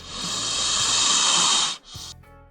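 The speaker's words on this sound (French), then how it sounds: "C'était le sifflement du serpent." A loud, steady hiss like a snake's, held for nearly two seconds, then a brief pause and a shorter hiss.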